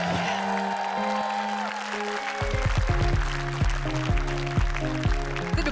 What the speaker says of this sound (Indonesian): Tepuk tangan buat Ingrid.